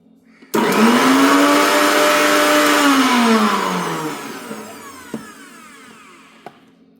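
A mixer grinder grinds cooked brinjal (eggplant) into paste, starting abruptly with a loud, steady motor whine that slowly lowers in pitch and fades, followed by a few faint clicks as it stops.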